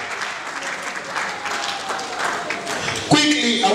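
Wedding guests at a marriage registry ceremony clap together, a dense, steady applause from a crowd that swells louder near the end.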